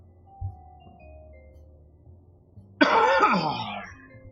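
After a quiet stretch with a faint thump, a person lets out a single harsh, loud cough that trails into throat clearing.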